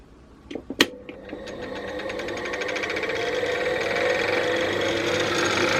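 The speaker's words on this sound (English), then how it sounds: "That was my collet closer that was making the rattling noise." A small lathe spins up and runs steadily, its whirring motor joined by a busy metallic rattle from the collet closer that grows louder and holds, after a few sharp clicks at the start.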